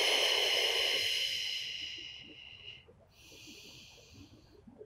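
Breathing during a Pilates session: a long, airy exhale fades out, then after a short pause a softer breath begins, close and quiet over a low background murmur.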